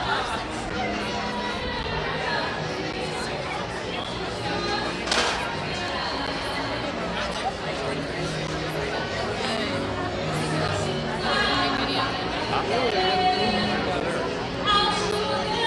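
Dense crowd chatter fills a gathering in Fort Myers, Florida, a constant close babble of many overlapping voices with no pauses throughout.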